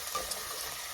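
Garlic, with onions, sautés in a pan for Italian garlic soup, a brief close sizzle with a faint stir at the end, alone and fairly quiet.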